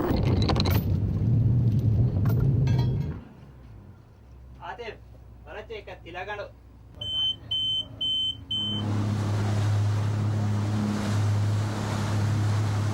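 Strong west wind of 15 to 20 knots and open-ocean waves around a boat in the Maldives roar loudly at first, give way to a quieter stretch with voices and beeps, then return as steady wind and engine rumble.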